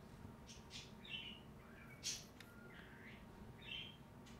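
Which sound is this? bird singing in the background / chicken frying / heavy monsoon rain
bird singing in the background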